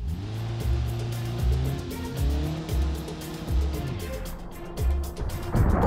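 A car in the BeamNG driving game roars with a loud engine rising and falling through gear shifts, then ends in a crash.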